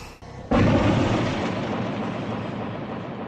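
A shotgun blast in a 1980 horror film, one sudden loud boom that erupts after a short quiet moment and then rolls on as a long, rumbling decay.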